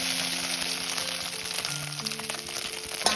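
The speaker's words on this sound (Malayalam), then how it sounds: "ഒന്നൊരു ചെറിയ ബ്രൗൺ കളറിലേക്ക് വീണ്ടും വരുന്നത് പോലെ തന്നെ ഒന്ന് വറുത്തെടുക്കുക" Chicken fries in a pan with curry leaves, a steady close sizzle and crackle with a faint stirring scrape, and no talking over it.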